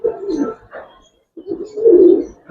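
Racer pigeons cooing up close in a loft, two rounds of throaty, rolling coos separated by a brief silence, the second longer and louder.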